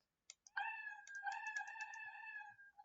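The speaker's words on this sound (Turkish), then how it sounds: "Miyav sesini başlattı bu işe yarıyor" Two quick mouse or keyboard clicks come first, then the Scratch cat's meow sounds alone: one drawn-out, quiet, electronic-sounding cry.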